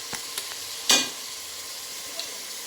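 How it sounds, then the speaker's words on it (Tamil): Eggs for fried rice hit a hot pan: a sharp crack-and-pour splash rises into steady low sizzling, with a few light taps around it, no voices. "முட்டை வந்து உடச்சி ஊற்றிக்க போகிறாங்க."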